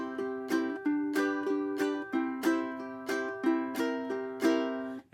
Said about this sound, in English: Pluck string 3, then string 4. And then in between, do a strum.